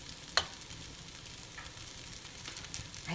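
Balinese fried rice is stir-fried in a pan: a soft, steady sizzle with occasional scraping stirs and one sharp clink of utensil on pan near the start, fairly quiet and with no talk.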